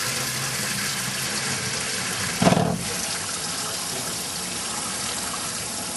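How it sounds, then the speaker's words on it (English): A voice-controlled shower runs water from its tub faucet and showerhead in a steady, hissing rush, with a brief louder splash partway through and no speech. "you'll actually see the tub faucet actually start to drain, and then you'll actually see the shower come out as well after"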